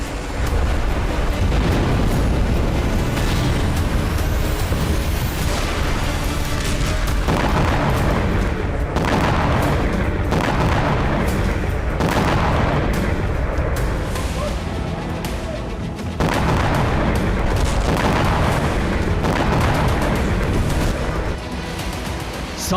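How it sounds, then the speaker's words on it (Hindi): Loud, dense rumbling from rocket strikes and kamikaze drone explosions, with repeated heavy booms and blasts rolling one after another, a voice faintly audible underneath. "सत्तर से ज्यादा कामिकाज़े ड्रोन विस्फोट,"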